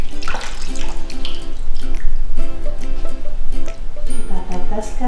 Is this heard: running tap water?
yes